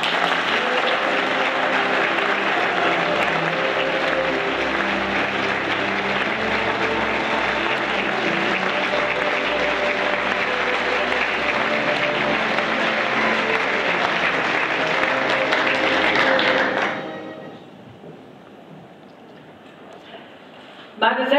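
An audience at an award ceremony in Laupheim claps loudly and steadily for about seventeen seconds to welcome actress Thekla Carola Wied, dense applause filling the hall before fading into quiet room tone.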